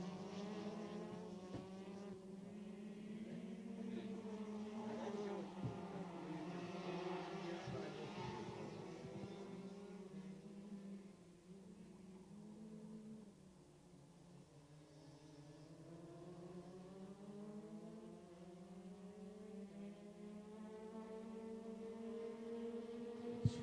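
DD2 Rotax racing karts lapping a track during a race final, their engines whining as they rise and fall in pitch, several karts close together, fairly faint and distant, with a commentator talking over them.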